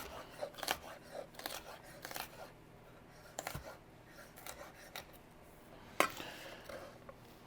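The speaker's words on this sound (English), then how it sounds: "And dice up our peppers." Bell peppers are diced with a knife on a cutting board in a kitchen cooking demonstration, giving quiet, irregular chops and taps scattered across the span with soft scraping between them.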